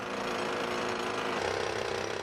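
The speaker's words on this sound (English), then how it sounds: "Craig thought he could drill Ocean Tower's cores longitudinally." Core drill boring into the concrete wall of a tower block being prepared for record demolition, a loud, steady grinding roar that holds unbroken throughout.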